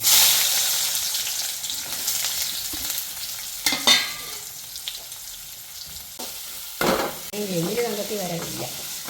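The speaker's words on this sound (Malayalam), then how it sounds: "സവോള അരിഞ്ഞത് ഇട്ട് കൊടുക്കുന്നു" Chopped onions sizzle loudly as they hit a hot pan, then a steady frying hiss with stirring scrapes; a voice briefly speaks near the end.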